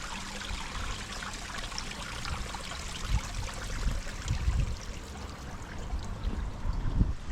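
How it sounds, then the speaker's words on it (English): Water tumbles steadily down a rebuilt garden waterfall into a new pool, a continuous close splashing and trickling rush with slightly louder gushes toward the end, no voices. "rebuilt all this bottom waterfall and some bits of them, and made a pool there"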